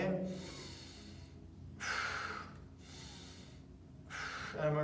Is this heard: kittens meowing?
no